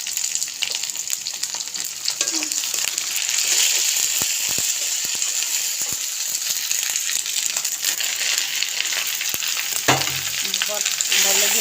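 Bay leaf, ginger and cumin fry in oil in a wok on a stove, giving a loud, continuous close sizzle broken by scattered metallic clinks from stirring.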